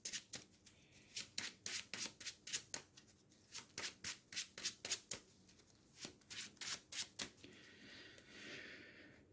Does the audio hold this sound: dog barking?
no